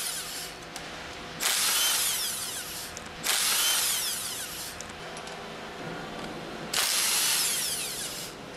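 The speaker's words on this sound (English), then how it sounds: "Use the impact wrench with a 10 millimeter hex drive attached to remove the remaining six retaining" Impact wrench with a 10 mm hex drive removing retaining bolts on a General Pump 70/71 series pump, in three loud sustained whirring bursts over a constant background hum.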